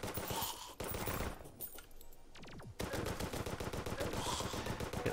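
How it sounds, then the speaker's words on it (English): High velocity bullets fired in Terraria: rapid, loud, steady machine-gun-like bursts of shots that pause briefly, give way to a few rising tones, then resume firing without a break. "these are the high velocity bullets now"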